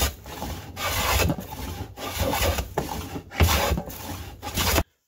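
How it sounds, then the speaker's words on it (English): Cedar boards glued onto a wooden canoe paddle blade are planed down with repeated rasping strokes in a steady rhythm, close and fairly loud, ending abruptly in silence. "Essentially what I'm doing now is just planing down these two boards that I glued on here."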